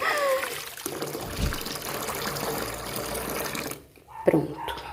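Water runs and splashes steadily while a bathroom is cleaned with bleach, a continuous trickle that drops away briefly near the end before resuming.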